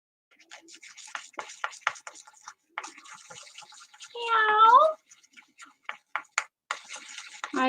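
A single drawn-out cat meow, clear and fairly close, rising out of scattered soft rustling and scratching noises.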